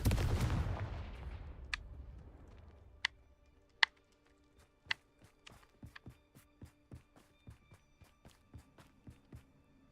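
A Confringo fire spell in Hogwarts Legacy erupts in a loud rumbling blast that fades over a couple of seconds, followed by sharp cracking impacts and a run of quicker, lighter ticks and pops trailing off.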